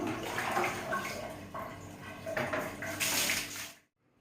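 Water runs steadily from a tap over removed parts of an LG split air conditioner as they are washed, a continuous close splashing that stops abruptly at the end.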